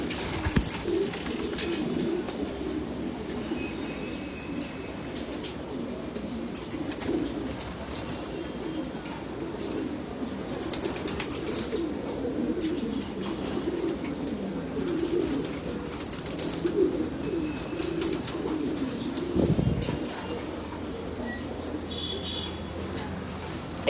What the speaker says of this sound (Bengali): এখানে একটা কবুতর আছে,